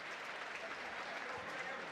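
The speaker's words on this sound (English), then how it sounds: "Blackwell gets a nice ovation from the crowd here at Scott Stadium as he walks off under his own power" A crowd at Scott Stadium during a Duke vs. Virginia college football game gives a steady, distant ovation, applause and cheering holding evenly throughout at a faint level.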